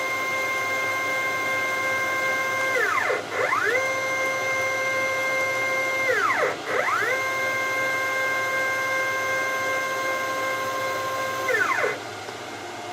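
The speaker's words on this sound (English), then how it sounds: "the motor is obviously moving up and down, maybe 1/8 of an inch" A motor on a home-built CNC machine runs with a steady whine, its pitch dipping and rising again three times as the drive slows and speeds up over the run.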